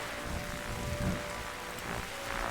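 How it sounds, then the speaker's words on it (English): Steady rain pours during a storm in the point-and-click detective game The Darkside Detective, a dense, even hiss with a faint tonal hum and no talking. "That storm looks like it's getting nastier."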